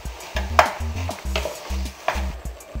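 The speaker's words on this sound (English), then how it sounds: "Just keep stirring it down until all that meat becomes very fine." Ground meat seasoned with onions, salt, pepper and oregano is stirred in a frying pan, with repeated scraping strokes and spoon knocks against the pan over a soft sizzle, close and without talk.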